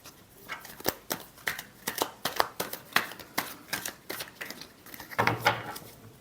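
Tarot cards being shuffled by hand, a quick run of crisp papery snaps and flutters in uneven bursts, close and fairly soft, with a brief louder flurry near the end and no talking.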